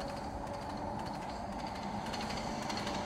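Rolling rumble of a TGV Duplex train running at its top speed on rails in the Trainz game, a steady dense roar with faint rhythmic clicks from the wheels.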